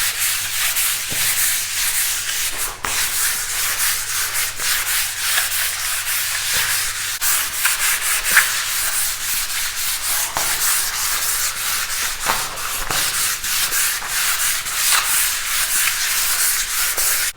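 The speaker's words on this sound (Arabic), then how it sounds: "الأول أصنفر السقف علشان نشطبه قبل مراحل تشطيب الجدران" Steady, continuous abrasive scraping of sandpaper being worked across a ceiling surface before painting, loud and close with repeated stroke rhythm and no talking.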